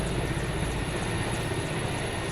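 A helicopter on a helipad before takeoff, its engine and rotors giving a continuous even drone with a high whine above, steady and moderately distant.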